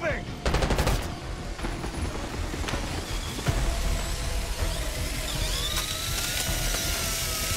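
Rapid automatic gunfire from a machine gunner in the Call of Duty: Black Ops 6 Ground Control mission, dense and sustained across a noisy battlefield mix with scattered louder bursts and occasional whistling tones.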